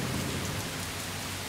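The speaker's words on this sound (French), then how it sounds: "il ne pourrait pas arrêter de pleuvoir maintenant" Heavy cartoon rain pours down in a dense, even hiss, with a low rumble of thunder underneath. The downpour stays steady and constant throughout, and no one speaks.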